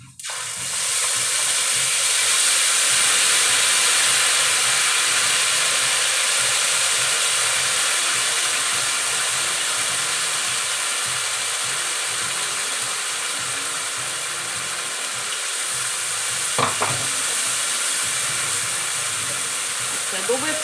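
Cumin and ground spices sizzle in hot oil for vegetable khichuri with potato and cauliflower, a steady close hiss running throughout, with a brief clatter near the end and no talking.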